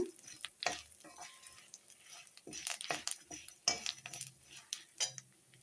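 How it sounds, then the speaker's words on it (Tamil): Ingredients stir-fry in oil in a pan on a stove, giving a soft sizzle under repeated scrapes and clinks of a metal spoon against the pan, close and fairly quiet. "இந்த மாதிரி அடுப்பில் வந்து கொஞ்சமாக நீங்கள் என்ன சமையலுக்கு யூஸ் பண்ணுவீங்களோ அந்த ஆயில் விட்டு நல்லா வறுத்துக்கோங்க"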